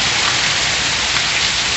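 Steady heavy rain falls in the sertão of Pernambuco, a close, unbroken roar of drops with no voices.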